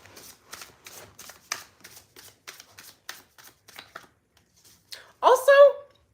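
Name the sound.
shuffling a deck of animal oracle cards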